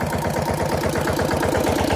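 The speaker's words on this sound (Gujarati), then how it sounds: "અને આપણું ટ્રેક્ટર છે અહીંયા." A tractor engine idles close by, giving a steady low, throbbing chug with an even pulsing rhythm throughout.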